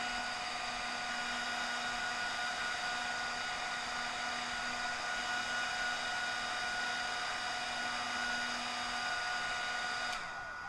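A hair dryer on its cold setting blows steadily to dry glue on fishing lures, a constant whirring hum with a stable tone that cuts off near the end.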